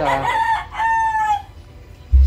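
A Boston Roundhead rooster crows nearby, a loud drawn-out cock-a-doodle-doo in a few rising and falling segments, followed by a brief low thump at the end.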